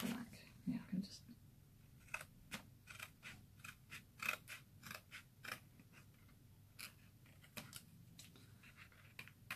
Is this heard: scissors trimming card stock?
yes